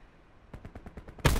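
A single sharp, loud sniper rifle shot in a Blackout battle royale game cracks at the end, after a short run of softer rhythmic thumps.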